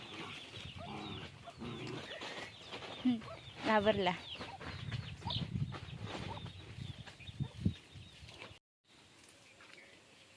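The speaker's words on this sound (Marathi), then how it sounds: "कोंबडी आहेत आतमध्ये" Hens clucking inside a coop in a farmyard, short bursts of clucks and squawks mixed into nearby talk, loudest in the middle, then quieting to a faint background.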